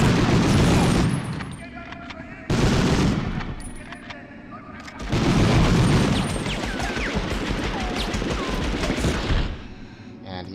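Enemy gunfire in Medal of Honor crackles in loud, dense bursts of rapid shots, separated by brief lulls and followed by a lingering sustained volley, close and harsh.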